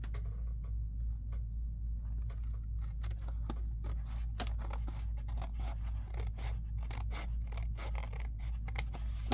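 Scissors trim a paper card for a Victorian dance card, a quiet run of close, crisp snipping cuts that come in uneven bursts over a low steady hum, with no voice.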